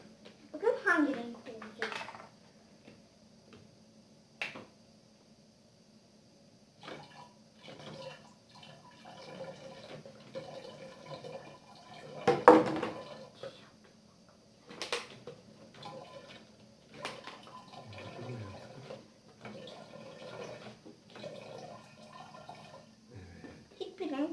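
Water glugs and splashes as it is emptied out of a large 5-litre water jug, in short irregular bursts, with a child and an adult talking throughout.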